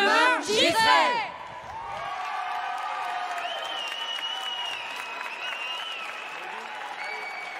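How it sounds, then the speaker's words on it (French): Audience applause and cheering at an agricultural training presentation event, steady clapping with whoops and raised voices after a brief spoken line, sustained at an even level to the end. "Vous pouvez les applaudir encore très fort."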